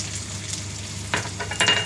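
Oil sizzles steadily as ginger-garlic paste hits a pan of fried onions, with a couple of louder spitting bursts and a faint scrape of a utensil near the end.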